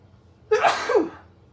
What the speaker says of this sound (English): 1 second, because I'm going to sneeze